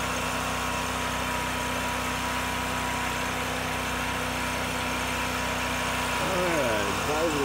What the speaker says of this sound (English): And let me start a generator.